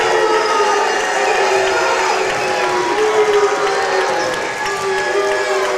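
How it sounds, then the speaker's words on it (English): A high school basketball crowd in a gym booing and clapping as Oldenburg Academy's team returns to the court against South Decatur, a dense, sustained roar of mixed voices with faint talk underneath. "the boos are louder than the claps for Oldenburg as they come back out onto the court"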